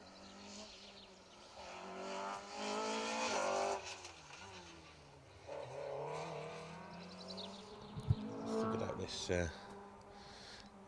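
Vauxhall Nova rally car running flat out on an asphalt rally stage, engine note rising and falling as it passes, with a commentator talking over it throughout and a sharp transient near the end.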